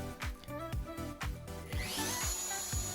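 A router spins on a homemade router table, set for a shallow first pass under a quarter inch; a steady motor whine rises partway through, with repeated dull knocks and rubbing throughout.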